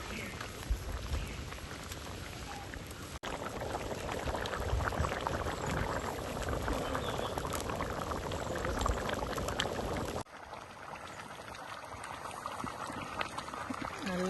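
Peas curry bubbling and simmering in a pot, a steady close bubbling hiss that continues throughout with a brief change in texture partway through, with no clear talk over it.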